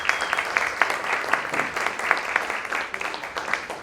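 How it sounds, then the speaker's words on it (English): Applause from an audience at a Wild Night in Australia 2019 event, greeting a federal member of parliament being introduced: a steady wash of many hands clapping, fairly close and loud, with no voices over it. "Please give a round of applause to Ms."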